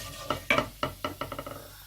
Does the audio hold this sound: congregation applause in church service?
no